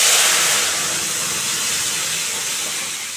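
Lentils dropped into hot oil with browned five-spice tempering, a loud, bright sizzle and hiss that bursts up at once and then settles into a steady, slightly fading frying sound, alone without talk.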